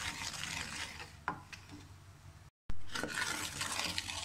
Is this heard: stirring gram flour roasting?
yes